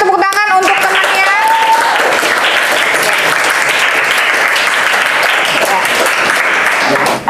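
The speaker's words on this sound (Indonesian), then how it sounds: "Kita kasih tepuk tangan untuk temannya." A classroom audience claps for a group of teachers coming forward to present their discussion results, dense steady applause that starts sharply and fills the room for several seconds, with a voice briefly heard at the start.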